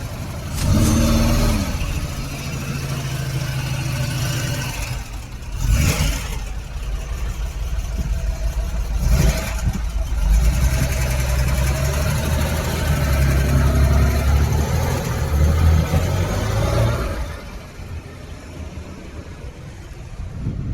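A BMW M2 sports car sits close by with a loud, rumbling idle, punctuated by two sharp throttle blips before the engine note settles lower near the end.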